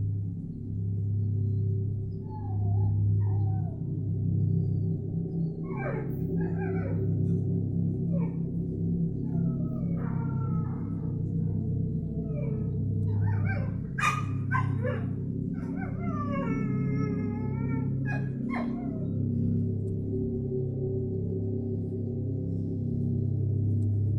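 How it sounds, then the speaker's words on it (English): Agitated house dog barking in the middle of the night, a run of sharp yips and barks with whimpers coming in irregular bursts over a constant low hum, moderately close. "Carolyn is awakened by her dog's incessant and agitated barking"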